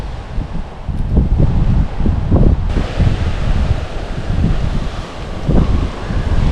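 Wind at a lake during a fishing outing, a loud, steady low rumble of gusts buffeting the microphone with rustling mixed in, rising and falling throughout, no voices.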